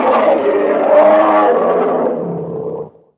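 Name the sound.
roar of the dinosaur Eocarcharia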